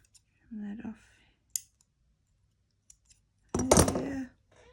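Scissors trim paper for a junk journal tag, giving a few short, close snips and clicks separated by pauses, with a louder burst of rustling handling near the end.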